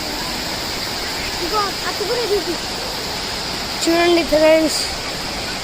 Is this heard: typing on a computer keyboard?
no